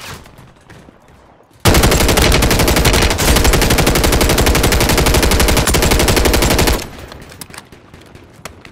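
Sustained automatic gunfire from a weapon in Call of Duty, a dense, loud, rapid stream of shots lasting about five seconds before cutting off, with quieter game ambience around it.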